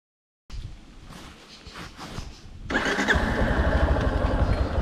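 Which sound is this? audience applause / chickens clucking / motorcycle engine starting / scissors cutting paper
motorcycle engine starting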